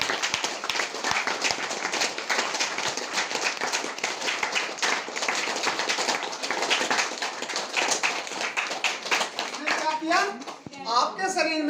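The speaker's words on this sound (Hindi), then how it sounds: "जोरदार ताली चाहिए" Loud, vigorous clapping from an audience at a DXN Ganoderma sales talk, with dense rapid hand claps filling most of the stretch before a voice begins speaking near the end.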